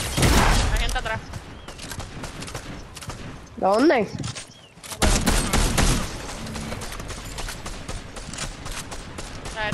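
Bursts of video game gunfire crackle through a match, with rapid volleys and sharp reports near and loud, mixed with excited talk between players.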